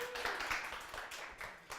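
Audience at a live trans community telethon applauds steadily for a performer, a continuous wash of clapping at moderate level with faint voices and cheers mixed in, tapering near the end.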